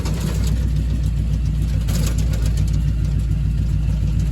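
A jeep engine runs steadily under throttle while off-roading, a loud, continuous low rumble with a constant mid-range drone throughout and no breaks.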